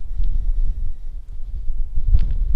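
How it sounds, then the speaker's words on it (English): Steady low wind buffets the microphone on an exposed fell top in the Bewcastle Fells, rumbling continuously and fairly loud with no voices. "It's a little bit windy here."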